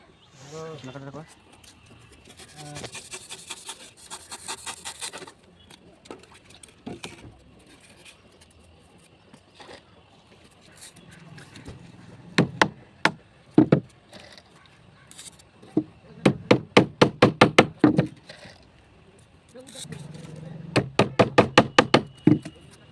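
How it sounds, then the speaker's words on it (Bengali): Wooden strips for a window box frame being cut and nailed in place, heard as scattered taps and then bursts of sharp, rapid hammer knocks, close and loud, with someone talking between them. "শোলাটা কিভাবে কাটছি দেখুন। এবং শোলা মারা হচ্ছে।"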